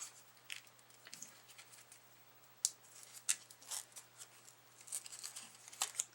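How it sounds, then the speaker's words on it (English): Adhesive backing being peeled off a peel-and-stick pad base while making a Valentine's Day Z-fold card: faint, scattered crinkly tearing and crackling ticks with a few sharper snaps, close and quiet. "So we're going to go ahead and peel this off."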